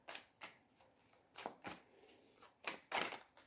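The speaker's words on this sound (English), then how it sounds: "let me pull some more cards" Tarot cards being shuffled by hand close up in a quiet room, coming in quick, crisp riffling bursts separated by short pauses.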